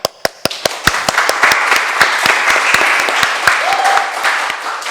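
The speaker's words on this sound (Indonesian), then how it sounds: "Yuk tepuk tangan dulu buat narasumbernya." An audience at a high school student council event claps for the speakers, starting with a few sharp distinct claps that quickly build into close, lively applause with individual hands standing out throughout.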